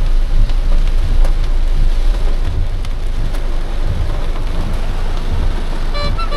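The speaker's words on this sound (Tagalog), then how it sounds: "Ayan, lakas ng ulan dito sa Makati." Heavy rain pours down in Makati in a loud, dense, continuous roar, with faint traffic and a brief horn toot near the end.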